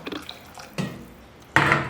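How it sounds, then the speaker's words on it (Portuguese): Water poured into a cooking pot for macaroni soup, a few separate splashing bursts, the last one loudest, close and without talk. "Mas antes eu já vou acrescentar aqui a água para cozinhar o macarrão."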